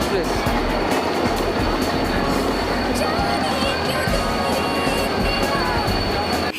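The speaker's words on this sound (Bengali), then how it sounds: "আমাদের ট্রেনটা ঢুকছে দুরন্ত এক্সপ্রেস।" The Duronto Express pulls into a platform at Howrah station with a continuous loud rumble of wheels and carriages rolling past. Faint rhythmic clatter and a thin high squeal run through it, along with busy background noise from the station.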